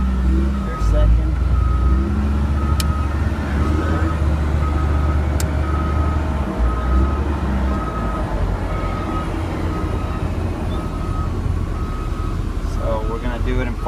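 A Caterpillar 938G wheel loader's diesel engine runs steadily up close, a continuous low rumble and drone that shifts slightly as the machine works through its gears, with a faint tonal whine riding over it.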